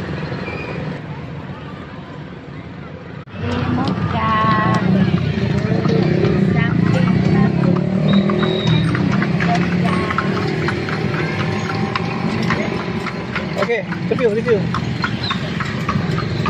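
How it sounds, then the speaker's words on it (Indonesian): Horse hooves clip-clop steadily while pulling a dokar carriage in Jogja, a brisk close rhythm over road noise, mixed with passing engines and nearby chatter. "Kita udah jalan naik kuda tuh dengan bunyi yang enggak tak tak tak tak tak tak."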